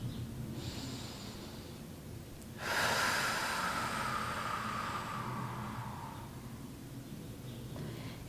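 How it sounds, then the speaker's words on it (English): Deep, steady breathing during a yoga session for pelvic floor relaxation and diaphragmatic breathing, a broad breathy rush swelling in for a few seconds then easing out, close and alone with no talk. "And then we're going to continue breathing."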